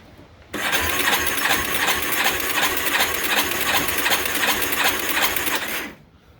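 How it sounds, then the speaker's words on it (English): A Yamaha Warrior 350 ATV engine is kicked over by foot for a compression test, a loud, close, rapid mechanical chugging with evenly spaced pulses that runs about five seconds and then stops. "I'm going to turn it over with my foot"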